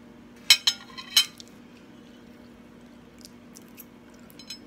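Cutlery scraping and clinking on a plate while lemon pepper steak is cut and eaten, a few sharp close clinks early, then soft intermittent chewing and utensil taps in a quiet room.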